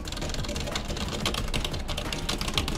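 Many keys on a computer keyboard are pressed in a dense, continuous clatter of clicks, fairly close and steady throughout, with no pause between strokes.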